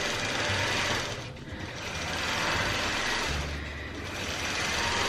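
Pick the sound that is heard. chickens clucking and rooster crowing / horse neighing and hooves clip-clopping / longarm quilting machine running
longarm quilting machine running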